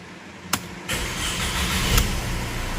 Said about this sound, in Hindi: आपके सामने हम गाड़ी स्टार्ट करते हैं